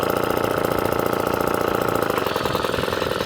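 A vintage Atco kick-start lawn mower engine running steadily close by, a loud, even buzzing putter with rapid regular firing pulses and no talk.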